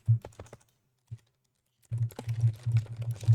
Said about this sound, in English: I'm typing like an idiot